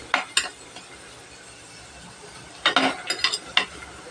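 Onions frying for a shark fish curry, a soft sizzle under a few brief spoon clatters against the pan, clustered near the end after a quieter stretch.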